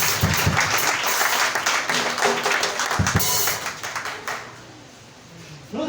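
A church congregation claps and applauds in a dense, loud burst that gradually fades toward the end.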